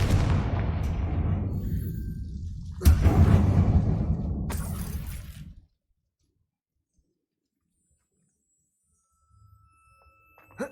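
Bombarda and Confringo spell blasts in the Hogwarts Legacy video game, cast inside an old mine: a loud, sustained crackling rumble with two sharp blasts about two seconds apart, then a cut to near silence.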